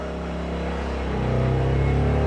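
Kings 2KVA pure sine wave inverter generator running steadily in economy mode, a continuous close engine drone with a low hum that holds level and firms up slightly toward the end.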